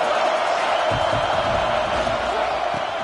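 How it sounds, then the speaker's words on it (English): A stadium crowd in the College Football 25 video game cheers in a continuous broad roar that stays steady and full for the whole stretch, with faint thuds beneath. "This crowd ready to make its presence known."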